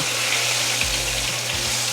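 Eggplant half pan-fried in a shallow layer of hot oil gives a steady, even sizzling hiss that holds close and constant, with a faint low hum underneath.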